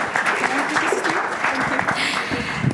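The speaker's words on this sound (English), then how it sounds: "Give a round of applause to Albatros." Audience applause at a maritime industry conference, a dense steady crackle of many hands clapping throughout, with some voices mixed in.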